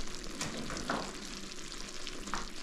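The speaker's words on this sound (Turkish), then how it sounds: "Çorbayı da şuraya indireyim. Buraya güzel kaynıyor." Soup boiling in a pot on a home kitchen stove gives a soft, steady bubbling hiss with occasional faint pops, close by and fairly quiet, with no voices.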